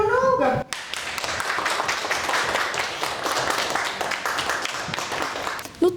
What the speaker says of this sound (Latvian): tie, kam izdevies savākt visvairāk punktu, stundas beigās izpelnās klases biedru aplausus